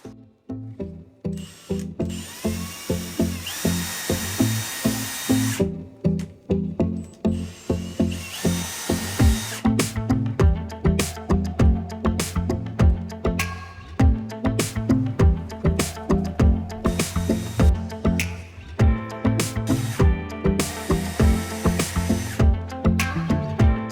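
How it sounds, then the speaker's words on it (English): A power drill revs repeatedly in short pulses during fitting work inside an expedition vehicle, winding up and down in pitch over and over, close and loud, with a few brief pauses. "time to start drilling and installing these."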